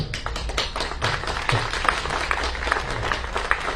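A modest crowd at a political party's campaign rally gives scattered, uneven applause, individual claps standing out sharply rather than blending into a full roar.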